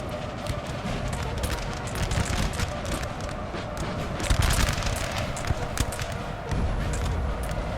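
Artillery fire in a strategy video game plays as repeated distant booms and volleys over a dense, constant battlefield din, loud and continuous.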